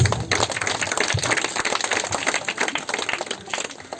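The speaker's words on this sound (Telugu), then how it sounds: "ప్లీజ్ చప్పట్లు ప్లీజ్." An audience claps continuously at a wedding as the couple walks onto the stage, dense, fairly loud applause throughout with no clear talk.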